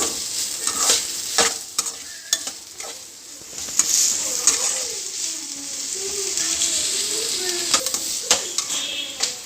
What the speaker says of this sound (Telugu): వెల్లుల్లిపాయలు వేసిన తర్వాత ఆనియన్స్ వేసానండి